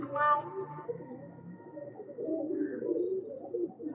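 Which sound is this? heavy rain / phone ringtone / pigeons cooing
pigeons cooing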